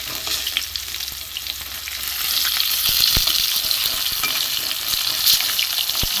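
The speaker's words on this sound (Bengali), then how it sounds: "আমার মাছ ভাজা হয়ে গেছে," Katla fish pieces frying in mustard oil, a steady close hiss and crackle that swells louder partway through, with occasional sharp pops and spatters and no one talking.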